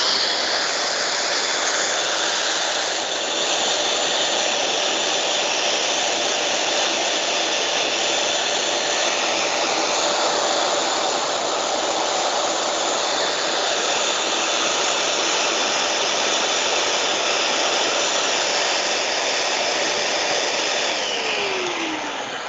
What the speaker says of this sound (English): me inflating a couple of foil balloons